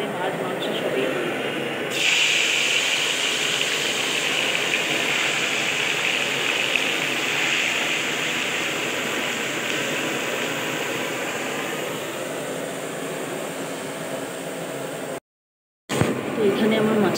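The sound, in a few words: lit stove burning before cooking fish curry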